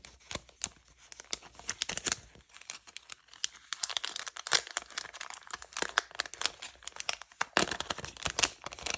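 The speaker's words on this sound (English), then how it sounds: "And then you'll bring in your little cello bag that has the gold foil in it." A cellophane bag holding gold foil sheets is handled up close, giving scattered crinkles and soft crackles at irregular moments with quiet pauses, no talking.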